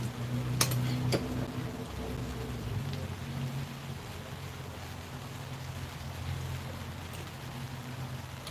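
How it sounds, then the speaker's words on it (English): Light rain falling outdoors at night, a soft, steady hiss of drops with a faint low rumble underneath, continuous and fairly quiet throughout. "At least it's a light rain."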